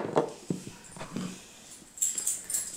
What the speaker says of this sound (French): c'est un berger allemand à poil long